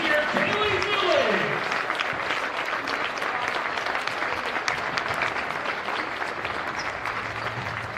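Crowd in a high school girls' basketball gym applauding, a loud sustained wash of clapping and cheering that stays dense throughout, with a voice over it early on.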